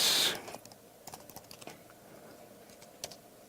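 Code being typed on a computer keyboard, a loud initial burst followed by scattered soft keystrokes at an uneven pace, fairly close and quiet, with no speech.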